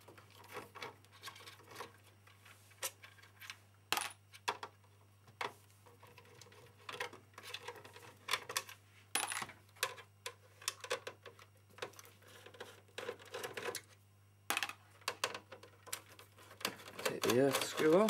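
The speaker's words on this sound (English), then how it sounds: "then unscrew those screws down there" Small screws being unscrewed from a 40GB PS3 console during a stripdown, with faint clicking, ticking and scraping taps close by while someone talks over them.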